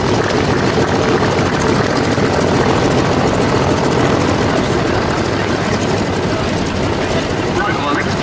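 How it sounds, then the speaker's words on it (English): A Vampire FB6 jet aircraft in a flying display at Duxford roars loudly and continuously as it passes, with an announcer speaking over the noise. "usual very elegant fashion by Martin Tesley, the Vampire FB6."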